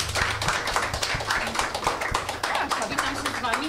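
A live podcast audience applauds to welcome a guest, with dense, steady clapping throughout and voices talking over it.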